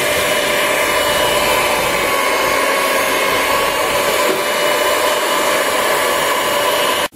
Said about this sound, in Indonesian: Dan ini di mixer sampai nanti adonan menjadi kalis.